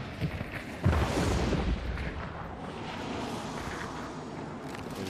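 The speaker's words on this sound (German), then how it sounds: "Die Schüsse kommen näher." Gunfire in the video game Hunt: Showdown: a few sharp booming shots go off, the loudest near the one-second mark, then a rumbling echo trails away into a low background.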